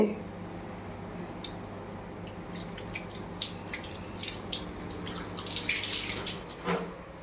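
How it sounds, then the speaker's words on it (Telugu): Water pours and splashes from a pot of boiled chana dal into a sink, an uneven trickling gush with drips and a few clinks, fairly close. "శనగపప్పు బాగా ఉడికించి పెట్టుకున్నాను ఇందులో నీళ్ళను తీసేసి"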